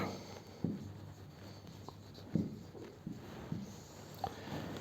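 A marker or chalk writes accounting entries on a board in a few quiet, scattered strokes and taps, faint against a soft room hiss.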